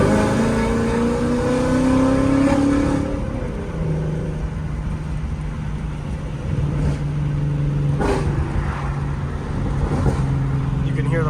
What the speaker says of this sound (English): You can hear the pops a little bit.